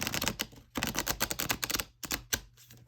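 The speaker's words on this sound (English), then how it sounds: "now let's give it a shuffle" Wandering Spirit tarot deck being shuffled by hand: rapid bursts of crisp card riffling and flicking, close and fairly quiet, broken by short pauses between passes.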